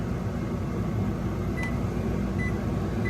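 A 2025 Palomino SolAire 2430BHS bunkhouse travel trailer's microwave oven gives a couple of short, faint electronic beeps as its clock button is pressed. The beeps sit over a steady background hum.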